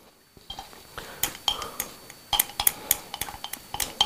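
A utensil clinks and scrapes against a container while liquid soap ingredients are stirred together, giving irregular taps and sharp clinks that grow busier and denser toward the end, close and alone with no talk.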